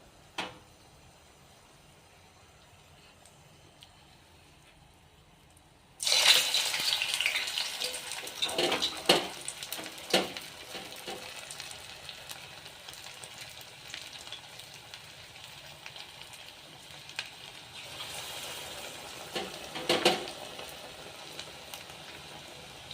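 Vada batter drops into hot oil and bursts into a loud, sustained sizzling hiss after a quiet start, with occasional sharper crackles and bubbling as the snacks fry.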